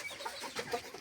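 Bantam chickens, decorative fowl, clucking in a quick run of short calls, close by and moderately loud, with no talk over them.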